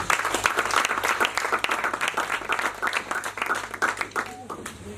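A church congregation bursts into loud, sustained applause, a dense wash of clapping with crowd noise and voices mixed in, tapering off near the end.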